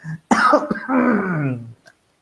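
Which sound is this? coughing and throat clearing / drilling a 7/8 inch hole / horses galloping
coughing and throat clearing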